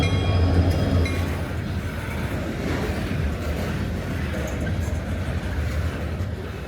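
A Union Pacific train rolls along the Greeley Subdivision main line between Cheyenne and Denver, making a steady rumble and rattle of passing cars. It sounds moderately close, with faint background murmur.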